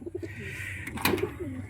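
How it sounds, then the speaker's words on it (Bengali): Black pigeons coo quietly in a large loft coop, a few soft throaty notes and a brief rustle close by, with no talking. "জাক পায়রা আছে কালো"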